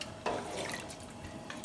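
Water pours from a jug into a cooking pot for a shrimp broth (caldo de camarón), a steady splashing rush that starts abruptly and runs close to the microphone with no talk.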